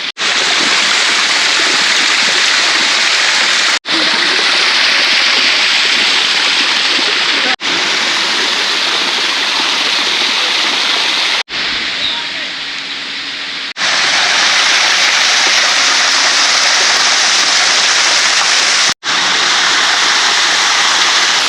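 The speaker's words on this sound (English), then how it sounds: "but still a mini waterfall over there, a waterfall over there, waterfall over there," Waterfall near the Chota Mahadev temple in Patalkot Valley, India, a loud, continuous broadband roar of falling water heard up close, with a few brief dips.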